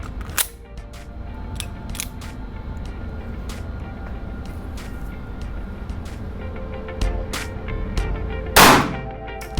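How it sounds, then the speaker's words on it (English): A single loud, sharp pistol shot from a SIG P365 XL fitted with a Romeo Zero sight cracks out near the end, following several fainter clicks and pops over steady outdoor background noise. "I'm gonna shoot the 365 XL with the Romeo Zero."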